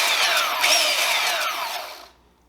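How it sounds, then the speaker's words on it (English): Belt sander running on a workpiece, a loud, bright whirring grind that holds steady before winding down and cutting off near the end. "next I'll try my belt sander here"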